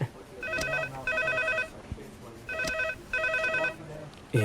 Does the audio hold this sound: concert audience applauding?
no